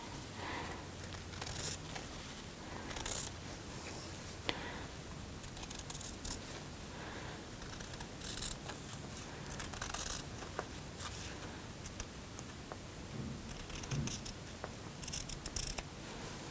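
Scissors snip through paper while an image is cut out, a long series of close, crisp cuts with rustling and crinkling of the sheet between snips.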